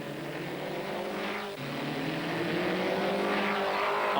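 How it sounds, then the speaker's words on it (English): Vintage race cars, including a Lycoming-powered car, roar past on a wet Queenstown street circuit in 1990, engines droning loudly and steadily with shifting pitch as they approach and pass, accompanied by a wet road hiss. "Smith in the Lycoming has opened the smallest of gaps again to take the checkered flag"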